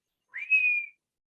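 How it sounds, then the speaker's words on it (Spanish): A single rising then sustained whistle from a person, clear and close, lasting under a second in otherwise silent surroundings. "alguien está silbando, está llamando"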